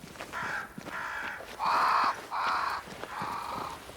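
Crows caw repeatedly in the game Banishers: Ghosts of New Eden, a series of five harsh, evenly spaced calls, the middle ones loudest and nearest, over faint ambient background.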